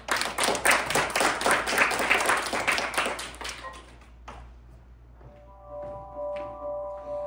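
An audience at a university student theatre performance, '2024 AI Inside Out', bursts into steady, dense clapping that lasts about three and a half seconds, then stops abruptly, leaving a quiet room with faint tones.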